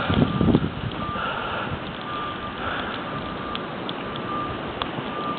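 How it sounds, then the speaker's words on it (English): Snow plows working through a blizzard, their reversing beeps sounding as faint repeated tones over steady wind and broadband storm rumble, heard from a distance. "Here's some more snow plows."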